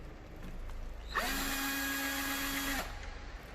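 A power drill backs out an 8 mm bolt on a BMW 3 Series while the air box and cowl are taken apart, giving one steady high whine of about a second and a half that starts and stops abruptly, close and clear.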